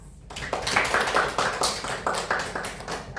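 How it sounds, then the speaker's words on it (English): Students in an English-taught science class on the respiratory and circulatory systems applauding a group presentation, a close, uneven patter of claps from a small room with a rhythmic, pulsing feel. "Give applause for us."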